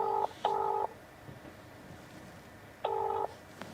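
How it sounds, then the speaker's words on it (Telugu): Three short, loud telephone keypad tones beep in quick succession as a number is dialed, two close together and one after a pause, over quiet room noise. "ఫోన్ చేద్దాం ఒకసారి"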